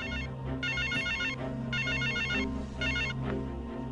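A telephone rings for an incoming call in three bursts of electronic trilling tones, each about a second long with short gaps between them, over a faint steady background hum and no talking.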